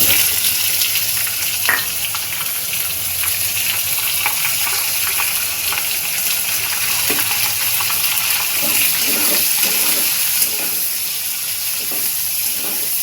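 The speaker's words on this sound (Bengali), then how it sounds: "রসুনের কোয়াগুলো আগে একটু ভাজা ভাজা করে নেব, করে নিয়ে এবারে পেঁয়াজগুলো দিয়ে দেব।" Garlic cloves and onions frying in hot oil for a khatta saag dish, a steady loud sizzle and hiss running unbroken throughout, with occasional soft clinks of utensils and no talking.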